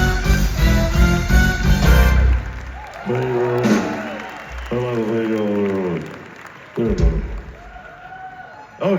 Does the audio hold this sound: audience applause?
yes